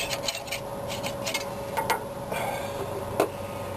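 A tool scrapes old gasket material off a part from a 1965 Ford Mustang GT, close up, in quick repeated rasping strokes with a few sharper ticks and knocks.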